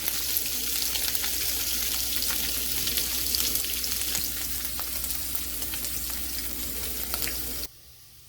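Steady sizzle and crackle of food frying in a hot pan, close and continuous for several seconds before stopping abruptly; the cooking involves steak and French rolls in the same pan.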